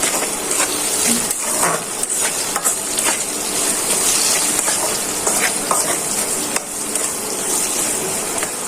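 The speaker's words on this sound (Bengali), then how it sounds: "পেঁয়াজটা ভালো করে ভাজা হয়ে যায়।" Onions sizzling loudly in hot oil with salt added, the base for an okra and red lentil dal: a dense, continuous frying hiss with frequent spatula scrapes and stirring clatter, close and steady.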